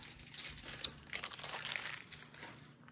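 Crinkling plastic packaging of a Barbie Basics you create deluxe kit being opened, quiet, close-up irregular rustles and crackles in short bursts with one sharp click, and no talk.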